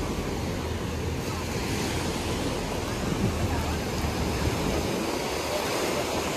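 Ocean surf washes steadily onto the beach at Cam Binh, a continuous loud roar of breaking waves with wind noise across the microphone and no clear pauses.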